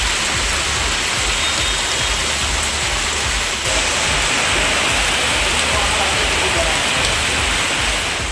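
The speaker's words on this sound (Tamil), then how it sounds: "சேலம் மாவட்டம் ஏற்காட்டில் கனமழை கொட்டி தீர்த்ததால் மக்களின் இயல்பு வாழ்க்கை பாதிக்கப்பட்டது." Heavy rain pours down in Yercaud, Salem district, Tamil Nadu, a steady dense broadband hiss of downpour that stays loud and continuous throughout with no talk.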